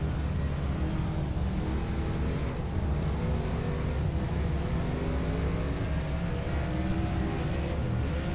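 NZ Superstock race cars roar around Kihikihi Speedway in rFactor, a continuous loud engine drone with shifting revs as the pack circles, steady and unbroken throughout, with no talk.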